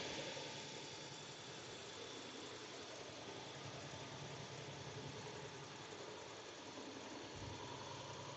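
A car engine drones steadily at highway speed, a constant broadband rumble with road noise that holds level throughout, no voices.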